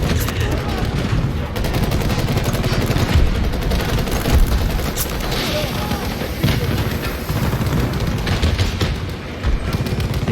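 Sustained loud gunfire in the video game Battlefield 2042 during a tank battle in Breakthrough mode, rapid machine-gun bursts and booms running throughout, with a voice speaking over the shooting.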